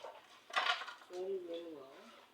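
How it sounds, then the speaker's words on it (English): Raw meat is washed in a home kitchen with a brief clatter of dishes and utensils, while a voice talks or hums over the sound. "Washing my meat"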